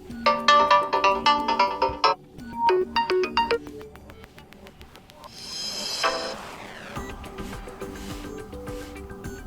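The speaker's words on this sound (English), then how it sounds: "tap on ringtone and select between weather adaptive, custom and system ringtones." A selection of alarm ringtones on an OPPO Reno 6 phone plays back to back: bright repeating melodic chimes, then short plucked notes, then a rising electronic whoosh and a busier tone pattern, loud and clear with no voices.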